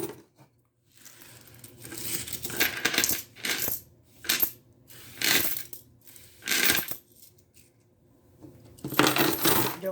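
Coins clatter in bursts into a penny-challenge savings jar, several handfuls dropping with jingling metallic rattles separated by short pauses, close and fairly loud, no speech.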